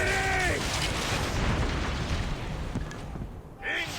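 Naval galley combat in Assassin's Creed Origins: continuous dense booming and rumbling of weapons fire from the galley, loud throughout, with shouted voices at the start and near the end.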